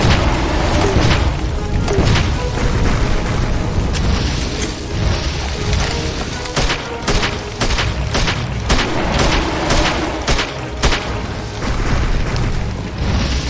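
Fire grenades fired from a grenade launcher burst again and again in Heaven Dust 2, a dense string of loud booms and cracks over a constant rumbling game backdrop.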